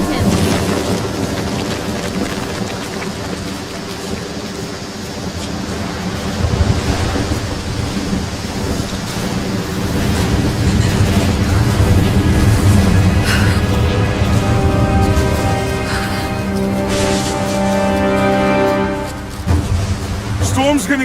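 A thunderstorm in Rise of the Tomb Raider, with heavy rumbling thunder and a steady wash of rain and wind that stays loud throughout, and a voice talking over it.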